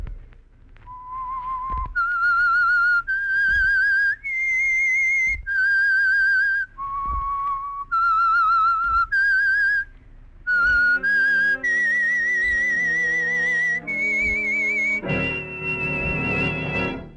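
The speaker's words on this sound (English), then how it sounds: "That whistle is your signal" A clear, melodic whistled signal tune of sustained rising and falling notes from a 1947 radio broadcast, loud and close, ending on a held tone with rich background harmony.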